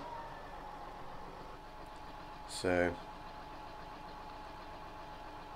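An old John Deere tractor engine in Farming Simulator 19 drones steadily at idle throughout, with a brief spoken word cutting in near the middle.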